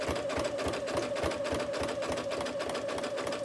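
A sewing machine stitching slowly through thick layers of trapunto cushion fabric, a steady close, continuous mechanical whirr with rapid even needle strokes throughout and no talking.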